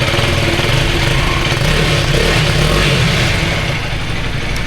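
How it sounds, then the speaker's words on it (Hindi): A 2025 KTM Adventure 250 motorcycle idles close by with a steady, even exhaust burble and a low throb that holds at the same loudness throughout, with no voices. "मैं अभी इसका एग्जॉस्ट नोट सुनाना चाहूँगा।"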